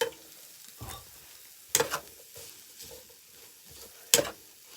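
Barbecue food sizzling quietly while being stirred, with a few sharp scraping clinks standing out against soft, steady frying noise nearby.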